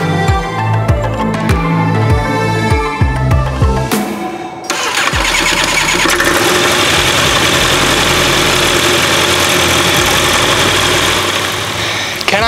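Edge Performance 165 hp aircraft engine on a new build, first cranking with rapid rhythmic starter pulses, then catching and settling into a loud, steady, rough idle that runs on, close by.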